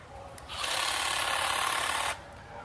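A 20V cordless hedge trimmer, Dewalt-compatible, cutting through shrubbery: a steady buzzing whir runs near and loud for about a second and a half, then cuts off, with faint handling sounds before and after.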